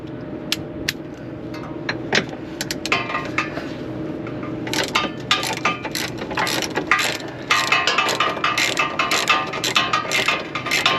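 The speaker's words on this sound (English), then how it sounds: "we're going to go ahead and unbolt the hangers right here, which I think it's just one, and it is a 13 millimeter" A ratchet wrench clicks steadily on a 13 mm exhaust hanger bolt under a Dodge Challenger. Close metallic ratcheting runs throughout amid clanks and workshop clatter, with no talk.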